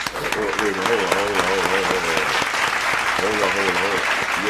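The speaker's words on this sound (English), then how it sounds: "Ooh, clap it up" Fans at a Dallas Cowboys vs. L.A. Rams game 5 watch party clap steadily and loudly while people talk and exclaim over the clapping nearly the whole time.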